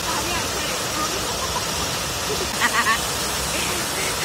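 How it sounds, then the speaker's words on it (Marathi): Heavy rain falls steadily outside, a constant hissing downpour filling the scene, with faint voices briefly rising over it. "अजून पण बाहेर पाऊस पडतोच आहे लगातार"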